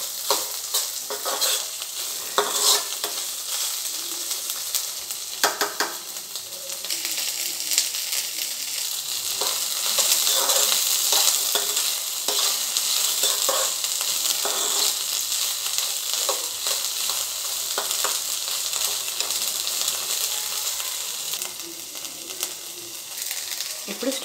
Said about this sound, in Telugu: ఈ నెయ్యి అంతా కూడా ఈ స్వీట్ కార్న్కి అప్లై అయ్యే విధంగా కొంచెం ఇలాగా స్ప్రెడ్ చేస్తూ తిప్పుతూ ఉండండి.